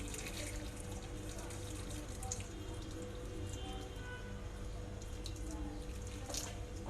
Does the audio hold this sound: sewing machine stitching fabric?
no